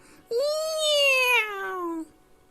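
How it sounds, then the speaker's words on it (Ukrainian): A single long cat meow, clear and close, rising and then sliding down over about two seconds, in a Ukrainian folk tale about a cat. "А він побачив, що на столі м'яса багато, і нума муркотіти."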